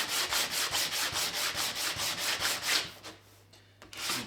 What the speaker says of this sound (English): So we've got this varnish that I want to get rid of, so I'll just do that with a bit of hand sanding.